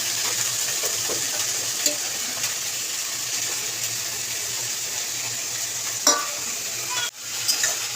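Steady sizzling of greens frying in a pan, with occasional scraping and clinks as they are stirred, close and continuous.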